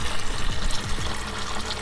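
Rusty water drains from an old car radiator in a steady, close, splashing trickle for a moment, with no talking.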